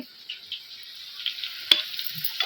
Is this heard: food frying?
yes